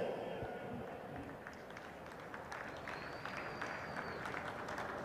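Crowd applause for the men's silver medalist team at an ultimate frisbee world championship final, a steady, fairly distant wash of clapping that holds evenly throughout.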